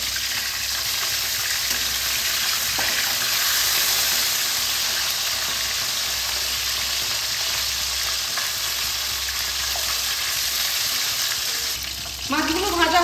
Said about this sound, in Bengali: তেল গরম হয়ে গেছে, এবার আমি মাছগুলোকে ভেজে নেব।